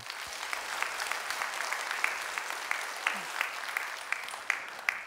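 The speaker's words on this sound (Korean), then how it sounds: "우리 선교곡 위해서 여러분 박수 한번 해주셔요." A church congregation at a Korean service claps together, a steady run of crisp handclaps with some sharper individual claps standing out, moderately loud and without speech.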